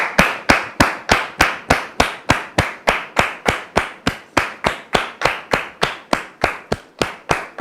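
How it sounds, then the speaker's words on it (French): Studio audience on a French-language talk show clapping in unison to welcome a guest: sharp, evenly spaced claps at about four per second, steady and fairly loud throughout with no voices. "sous vos applaudissements, s'il vous plaît"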